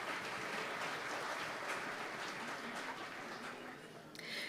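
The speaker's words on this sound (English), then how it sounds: "Let's give him a round of applause." An audience at a talk on energy communities applauds in a steady, moderately quiet wash of clapping that tapers slightly near the end.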